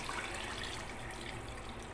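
A jug of water is poured into a cooking pot while making kadhi. It gives a steady, full rushing pour that stays even and close for the whole moment, with no talk.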